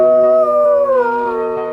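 A young wolf gives one long, loud, close howl, a sustained wavering tone that slides gently downward.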